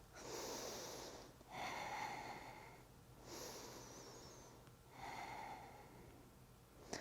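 Strong, forceful breaths during a postnatal yoga session: four slow, audible inhale-exhale cycles with rushing air through the nose, close and fairly quiet, evenly paced.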